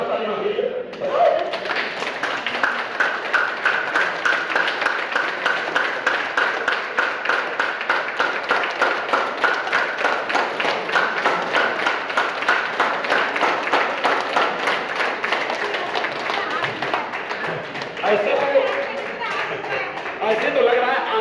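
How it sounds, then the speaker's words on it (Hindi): An audience at a live Hindi show claps long and steadily in a dense, loud burst of applause lasting the whole stretch, with a voice briefly audible at the start and toward the end. "बताओ एक बार खतरनाक ताली मांग लीजिए"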